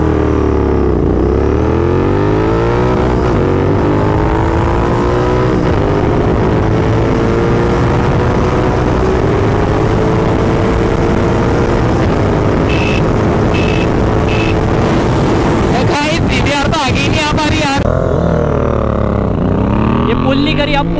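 Two motorcycles, a Continental GT 650 and a 2022 CBR 650R, rev and accelerate hard in a drag race, a loud continuous engine drone with rising pitch sweeps and gear changes, ending in wind buffeting.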